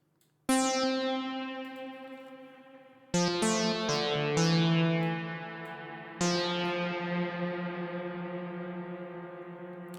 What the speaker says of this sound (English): I'm using a synthesizer from Cherry Audio, which is free and is really good to get those analog classic sounds